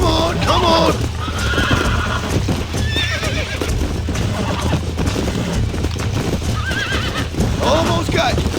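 Horse in the video game Red Dead Redemption neighing and whinnying repeatedly while being broken in, with clip-clop hooves and struggling movement throughout, close and loud, with voices urging it on over the top.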